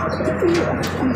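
Pet pigeons coo softly at close range during feeding, a steady low murmur of calls with a few brief chirps and no talking.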